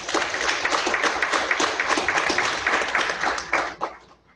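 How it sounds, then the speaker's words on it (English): Enthusiastic applause from a crowd at a school board meeting, dense steady clapping that fades out near the end. "So give her a round of applause."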